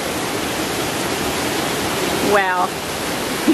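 Heavy tropical rain pours at night on Gili Trawangan, a dense, loud and constant hiss that fills the whole clip, with one brief spoken exclamation near the end.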